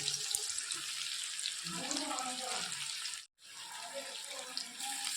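Water runs and splashes steadily into a spice mixture, pausing briefly once before flowing again, with a faint voice underneath.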